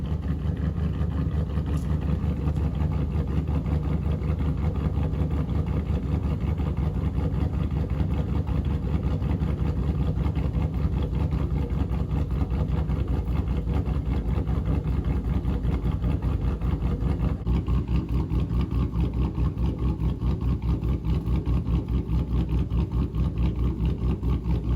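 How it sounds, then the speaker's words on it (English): GMC Sierra pickup truck with a newly installed catch can, engine running at a steady low idle while backing out, continuous deep rumble throughout, close and alone with no talk. "So we're gonna back it out here and take it for a drive and see how it does."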